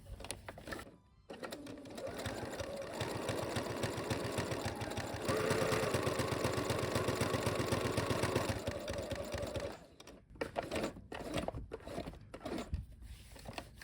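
A sewing machine stitching a Roman shade runs in a steady rapid whir for several seconds, close and clear, then stops and gives way to brief handling clicks and rustles.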